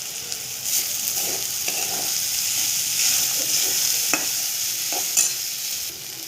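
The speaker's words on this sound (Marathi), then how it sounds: "चवीनुसार मीठ छान दोन तीन मिनटं फ्राय करायचं" Ground moong beans fry with salt in a pan, giving a soft, steady sizzle with occasional light scraping and clinks from stirring.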